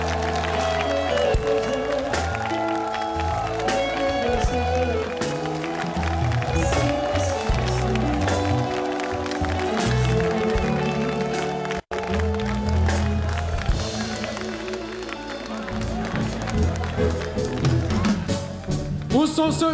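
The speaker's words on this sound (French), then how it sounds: "je veux 20 secondes d'applaudissements et je compte." A large festival concert crowd applauds and cheers alongside loud music, with clapping and crowd noise blending into a dense, continuous roar. A brief dropout breaks it near the middle.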